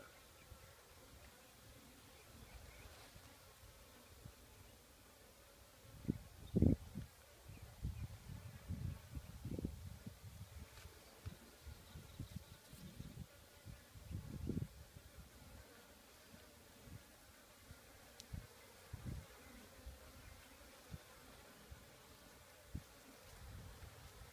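Honey bees buzz inside a Kenyan top bar beehive on a farm during an inspection, a soft, low, continuous hum with uneven swells and bumps, quiet and close.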